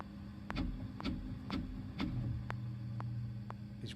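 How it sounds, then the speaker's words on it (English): A 3D printer working on a tiny cube, its motors giving a steady series of sharp rhythmic ticks about every half second over a low mechanical hum, close and fairly quiet. "this is the audio recording of the printer"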